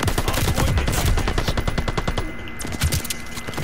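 Rapid automatic gunfire in the video game Call of Duty: Vanguard, a dense burst of fast repeated shots filling the whole stretch, loud and with no talk over it.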